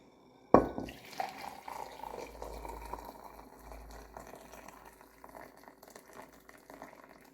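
Hot water poured into a glass in a home setting, a sharp splash onset followed by a steady, moderate trickle and gurgle that fades gradually over several seconds, with no talking.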